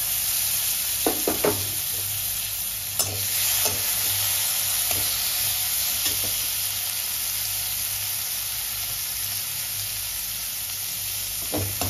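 Chopped capsicum sizzling in a hot pan, a steady hiss under the sharp clicks and scrapes of stirring.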